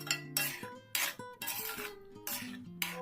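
Mushroom ghee roast masala being stirred in a pan, a spoon clinking and scraping against the metal in several separate strokes, with quiet gaps between them.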